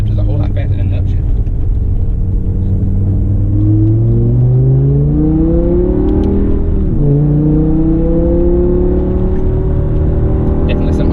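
A BMW E60 M5's V10 engine revs loudly from inside the cabin, its pitch climbing and dropping sharply through quick gear shifts, a dense continuous roar with a voice talking over it.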